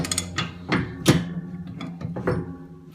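A torque wrench tightens greased nuts on a snow plow shoe, giving a series of close, sharp ratcheting clicks in uneven bursts.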